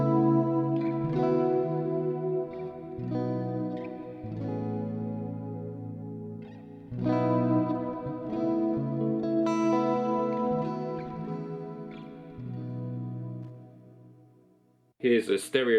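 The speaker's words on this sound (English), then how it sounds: "so what a mono reverb sounds like" Electric guitar played through a Boss RV-6 pedal set to mono reverb, chords and single notes ringing with a spacious wash that trails after each phrase, loud and close with no talking.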